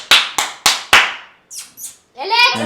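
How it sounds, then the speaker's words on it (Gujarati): People clap their hands in a room, four sharp, loud, close claps in quick succession, then excited voices talking. "ઓય તાળી પાડો તાળી"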